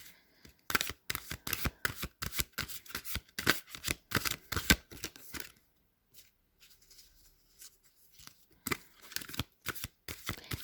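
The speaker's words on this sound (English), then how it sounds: "I'm gonna pull out a Rumi Oracle card." Rumi Oracle cards being shuffled by hand make a close, crisp series of riffling flicks in quick rhythmic bursts, pausing briefly midway before a final few shuffles, with no talking.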